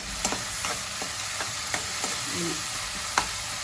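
Finely chopped ingredients for a spicy gravy sizzle steadily in a pan, with soft scraping knocks from a spoon stirring them every half second or so, close and fairly quiet.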